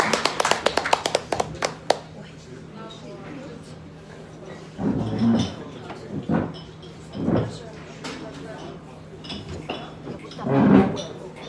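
Applause from a concert audience at a harp and jazz performance comes in several bursts of clapping, near and moderately loud, separated by quieter gaps with some talking.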